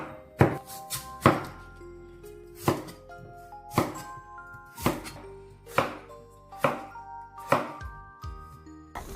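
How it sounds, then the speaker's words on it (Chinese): Knife chopping a peeled potato into roll-cut chunks on a board: about a dozen crisp, evenly spaced thuds with a slight ringing tone, close and clear with no talking. "土豆去皮， 对半切开，再滚刀切块。"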